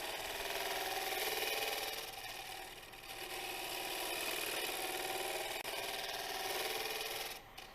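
Gouge on a lathe cutting a koa crotch bowl, a steady broadband rasping scrape with a low motor hum beneath, running continuously with slight swells before it thins out at the end.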